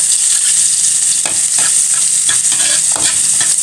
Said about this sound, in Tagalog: magisan tayo ng ating mga ricado